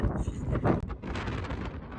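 Strong wind gusts buffet the microphone at a Hawaii lookout, loud rough roaring bursts with a brief dip partway through.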